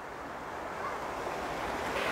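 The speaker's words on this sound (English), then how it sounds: "She loves that sound, the waterfall." Waterfall rushing near a large rock on an outdoor family walk, a steady, loud, broadband roar of falling water that holds unbroken and close throughout.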